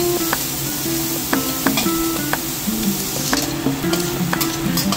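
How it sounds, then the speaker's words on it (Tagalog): Chopped onion fries in a pan for shrimp fried rice, a steady loud sizzle broken by repeated spatula scrapes and stirring clinks in an irregular rhythm, close and without talk. "mag-fry tayo ng chopped onion"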